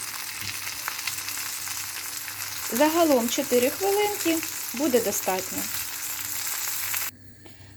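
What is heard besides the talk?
chicken schnitzel frying in pan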